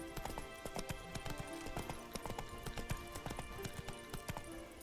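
Horse galloping in The Witcher 3 video game, a quick steady clip-clop of hooves with rhythmic thuds running throughout, close and fairly loud over a faint game background.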